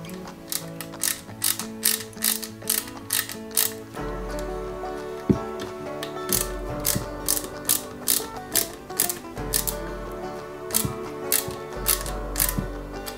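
Small screw driven into the plastic and metal parts of a 1/8 scale Mercedes-Benz 300 SL model kit, giving rapid rhythmic ratcheting clicks in regular bursts, close and fairly clear, with light handling knocks between them.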